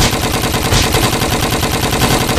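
Rapid gunfire rattles continuously in a Lego zombie apocalypse animation, a dense, loud, unbroken burst of automatic shots with no pauses.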